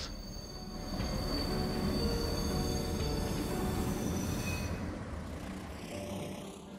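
A freight train hauling paper pulp brakes in Train Simulator with a loud rolling rumble of wagons and high steady wheel squeal that fades near the end.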